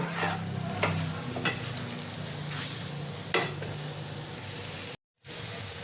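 A spoon stirs potatoes through a Bengali-style chicken patty filling in a frying pan, giving continuous scraping and gentle sizzling with a few sharper scrapes, then a brief dropout near the end.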